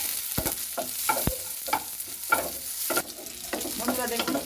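Onions fry in a pan for homestyle Bengali chicken soup, a continuous close sizzle under a string of sharp stirring scrapes and taps, with no voices.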